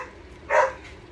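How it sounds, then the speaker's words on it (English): A single short dog bark rings out indoors at moderate distance, a brief bright burst standing alone against a quiet room background. "that's just my dog being stupid"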